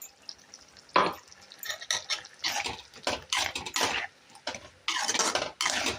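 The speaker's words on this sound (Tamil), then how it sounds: "இப்போ அதில் நம்ம அரைச்சி வச்சு தேங்காவை சேர்த்துப்போம்" Ground coconut paste being added to mutton fry in a pan, with a series of close scraping and stirring strokes against the metal, some wet sizzling in between, and no talk.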